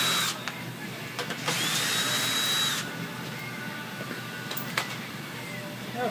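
A power tool works at fasteners under a 2006-2010 Dodge Charger while the front lower air dam and belly pan come off, with short bursts of whirring and a longer steady run among clicks and faint handling noise.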